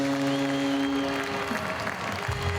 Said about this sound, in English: iceSheffield applauded.